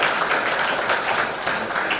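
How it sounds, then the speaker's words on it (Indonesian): An audience at a school talk on vision claps together in a brief, moderately loud burst of applause, steady with no voices over it. "Tepuk tangan sekali lagi buat dia."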